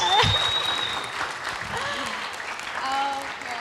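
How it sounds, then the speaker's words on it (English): Audience applause at a youth cultural forum, a steady patter of many hands with cheering and voices mixed in, moderately loud throughout. "Big round of applause for Miss Ratri."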